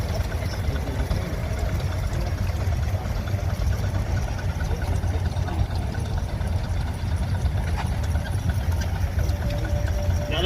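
A 28 horsepower Minneapolis steam traction engine rumbles past at a steam show, a steady low chugging drone with faint mechanical clatter running unbroken throughout, moderately close.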